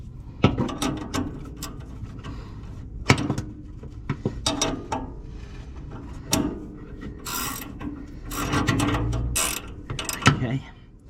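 A ratchet strap is cranked tight to tie down a Ford Courier mini-mover, giving close, loud clicking ratchet bursts in several separate runs with short pauses between them.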